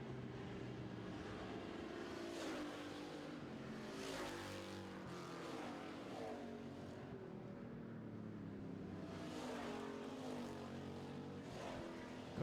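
Street stock race cars roar around a dirt oval track during a feature race, a steady dense engine drone with cars passing at a distance, loud and continuous with no talk.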